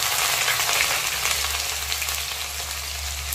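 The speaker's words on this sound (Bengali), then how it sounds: "এখানে অল্প করে পেঁয়াজ কুচি দিলাম" Crushed garlic and chopped onion fry in hot tempering oil with a loud, continuous close-up sizzle and a faint low hum beneath it.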